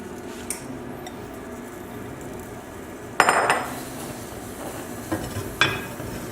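A large pan of kale being stirred over medium heat, with scraping utensil clatter against the pan, a louder burst of clanks midway and a few lighter knocks after, over a soft steady background.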